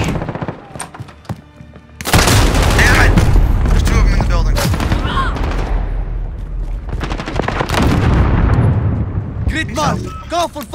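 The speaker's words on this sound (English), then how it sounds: "Cluster strike ready for launch." A cluster strike in Call of Duty slams in after a quieter opening, unleashing a loud, sustained barrage of explosions and heavy gunfire with radio voices and talk layered over it.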